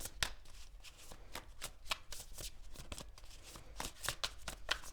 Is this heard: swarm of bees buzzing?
no